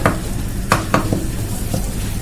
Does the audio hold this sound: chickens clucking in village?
no